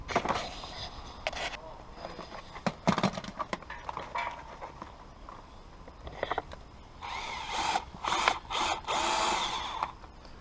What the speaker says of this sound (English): Take your time and don't rush with removing the rivets.